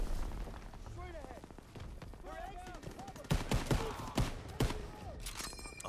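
Rifle gunfire in the Call of Duty WW2 D-Day landing campaign: a few sharp, loud shots crack out in quick succession near the middle, over dense battle noise and several voices talking.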